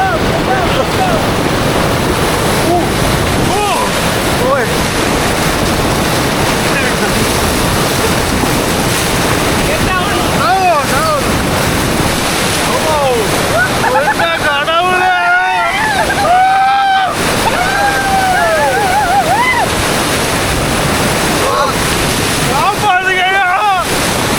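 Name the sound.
river waves while water rafting at Kitulgala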